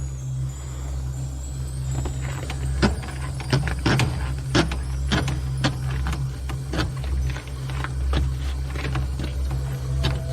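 Drain cable machine running a 5/16 or 1/4 inch cable through a lavatory fixture drain, a steady low motor hum with repeated sharp metallic clicks and clatters scattered irregularly throughout, close by and without voices.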